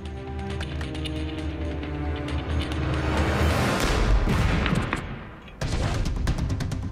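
An M777 howitzer shot booms and rumbles with a loud impact against a concrete wall, then the noise breaks off abruptly and steady music resumes.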